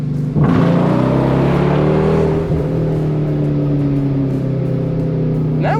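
A tuned Jaguar car launches hard from a standstill, its engine roaring loudly and climbing in pitch, then holding a strong steady drone before a brief rise near the end.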